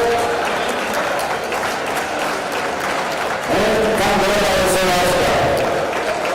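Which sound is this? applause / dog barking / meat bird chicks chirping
applause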